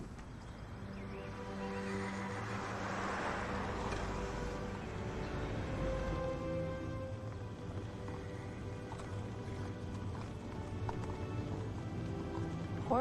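Horses clip-clopping on the grounds of a school, a steady rhythm of hooves heard at a moderate distance, with a horse neighing once.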